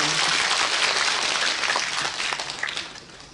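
Audience at a community festival forum applauding a lawmaker, a full, sustained round of many hands that gradually tapers off over a few seconds.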